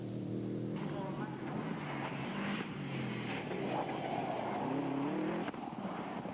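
Paul McEnroe's rally car runs at the Punchestown rallysprint, its engine revving and shifting at a middle distance under a commentator's continuous talk.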